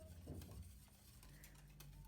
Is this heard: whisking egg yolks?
yes